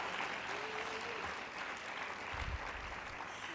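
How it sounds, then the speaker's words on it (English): Audience applause at a keynote at a cooperative-movement institute gathering, a soft, distant, continuous patter of many hands clapping, steady throughout with a faint low thump midway. "that deserves a round of applause"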